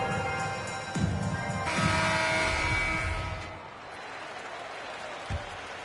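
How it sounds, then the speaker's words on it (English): Arena crowd in an NBA 2K23 basketball game, Clippers home court during a timeout, applauding and cheering at moderate distance amid general arena noise and occasional thuds, fading toward the end. "Let's give a round of applause for your Clippers Spirit"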